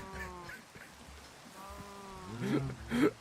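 Cows mooing in the Minecraft video game, a few harmonic bleat-like calls repeating in short bursts, the last two louder and closer, with no talk over them.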